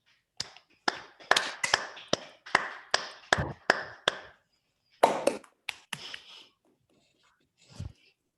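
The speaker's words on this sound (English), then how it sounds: "we can unmute ourselves and clap for Martin" Scattered claps from a few people over a video call after a talk, about a dozen sharp hand strikes at uneven intervals, fairly close and thin, alone and fading out toward the end.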